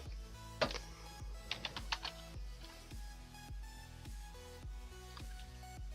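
Keys clatter on a computer keyboard in quick irregular bursts, soft and close, with brief pauses between runs of typing and no talk.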